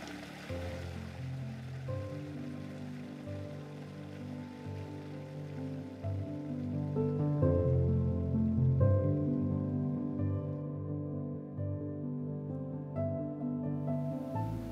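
Water rushes steadily along a levada irrigation channel fed by mountain springs, a continuous close wash of flowing water that swells slightly midway and carries on without pause.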